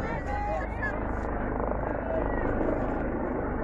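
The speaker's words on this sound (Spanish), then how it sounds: "Esta mañana han venido con aviones, ahora vienen con helicópteros." Helicopters fly overhead, a loud continuous rotor drone filling the whole stretch without a break.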